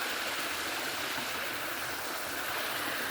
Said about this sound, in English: This is the creek at its best.